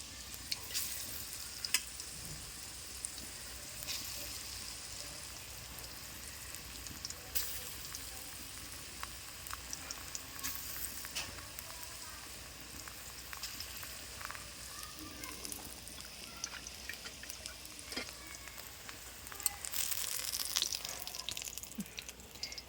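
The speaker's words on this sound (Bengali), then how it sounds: "আজ তো তরকারি করবো না এমনিই বড়া করবো" Chana dal fritters frying in oil, a continuous close sizzle and crackle with occasional sharper pops and scraping stirs, steady throughout.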